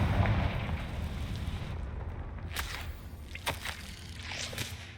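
A Confringo blasting spell in Hogwarts Legacy sets off a loud, booming explosion that rolls and fades, followed by several smaller sharp pops and crackles.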